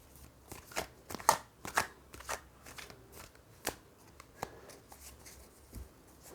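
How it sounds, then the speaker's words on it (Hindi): Tarot cards being gathered and shuffled by hand: a quiet series of soft riffling and tapping bursts, close and irregular, with no talk. "मैं सारे कार्ड्स ले लेती हूँ।"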